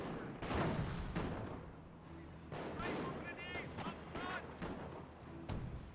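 Sniper rifle shots and battlefield gunfire in the Company of Heroes strategy game, several sharp cracks and blasts at irregular intervals over a steady rumble of combat noise.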